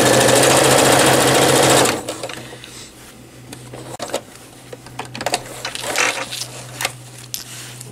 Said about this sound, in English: And you're just going to straight stitch down this line.